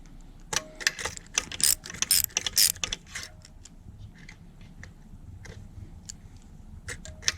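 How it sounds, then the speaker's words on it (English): Tightening a nut on a throttle rod during an iTroll fit kit installation produces a quick run of close, crisp metallic clicks and ticks, then sparser scattered taps against a quiet background. "tighten the nut just so it touches the spacer with no slop in it"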